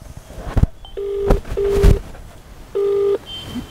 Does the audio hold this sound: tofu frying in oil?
no